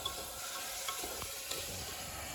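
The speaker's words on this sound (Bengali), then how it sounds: "মাংস দিলাম, ম্যারিনেট করা মাংসটা দিলাম।" Marinated meat hits hot oil in a pan during outdoor cooking in the Purulia hills, giving a steady, moderately quiet sizzle with faint stirring clicks and no talk.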